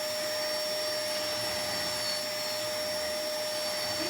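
A Hoover vacuum cleaner runs indoors with a steady, loud, high whine and airy roar that holds unbroken throughout, with no voices.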